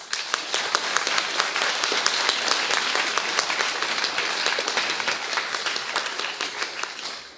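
Dense, sustained audience applause fills a talk hall in Lyon, many hands clapping steadily at close range for about seven seconds, with hardly any voices beneath it.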